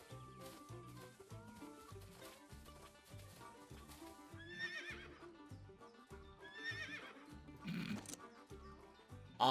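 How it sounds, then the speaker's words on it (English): Horse in a farming video game gives repeated whinnies and neighs over rhythmic clip-clop hoofbeats and game music, fairly loud and close, with no talking. "Why is there a horse?"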